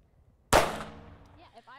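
A single loud, close gunshot at a shooting lesson, a sharp crack that rings out and decays over about a second, followed by a brief voice.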